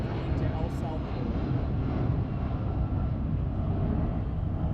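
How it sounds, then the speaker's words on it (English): Volaris airliner lining up on the runway at Los Angeles International Airport, a steady broadband engine roar holding at constant loudness throughout, with commentary voices talking over it. "currently Volaris Flight 4331 is lining up, and that is that special livery known as your sister airline"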